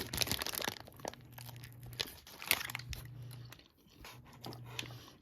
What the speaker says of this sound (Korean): 먼저 밥부터 제가 한번 먹어보도록 하겠습니다.